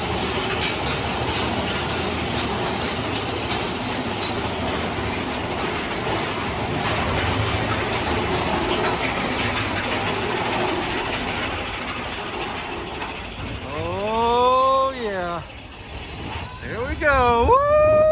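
A Frontierland roller coaster train at Walt Disney World rumbles and clatters along its track, loud and continuous, with rising squeals from the wheels or track toward the end.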